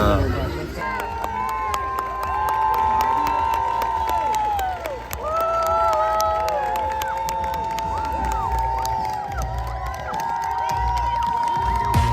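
A crowd at a Disney street parade cheers, shouts and claps continuously over loud parade music with sustained melodic tones, the roar swelling and dipping as voices of children and adults mix in the throng.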